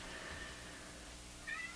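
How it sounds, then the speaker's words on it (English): A cat meows outdoors, two short faint calls, the second near the end, heard at a distance through room quiet and low hum from a National HRO Sixty communications receiver workbench. "Oh, listen to my cat out there."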